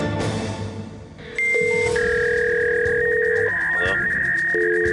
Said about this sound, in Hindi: मुंबई पुलिस हेडक्वार्टर्स के कंट्रोल रूम में लगातार फोन बज रहे थे।